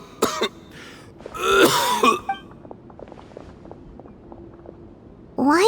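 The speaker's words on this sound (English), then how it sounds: "Why is he coughing so much?" A male character in the video game Genshin Impact gives a few harsh coughs and throat clears, up close and clearly heard, between quieter stretches with faint footsteps or movement.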